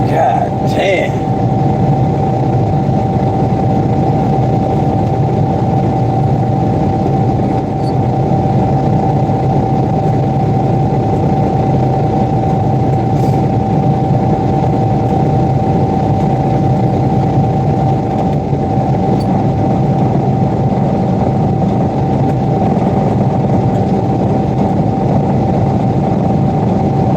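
Car engine idling steadily in icy cold weather, a constant low hum with a steady mid tone running unbroken and close for the whole stretch.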